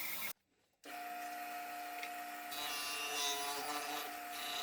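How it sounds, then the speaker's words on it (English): A bandsaw with a wide blade cuts curved bends in wood for a step stool, a steady whining hum with a cutting rasp, briefly dropping out before resuming. "I'm using the bandsaw, and I'll be honest with you, I'm kind of struggling to get around these bends a bit"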